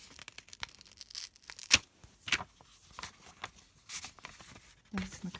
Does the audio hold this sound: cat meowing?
no